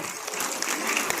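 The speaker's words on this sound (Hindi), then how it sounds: "दोनों तालियां बजाओ" A university audience at a Swami Vivekananda Jayanti and National Youth Day event claps in a short, dense burst, steady throughout, with no voices standing out.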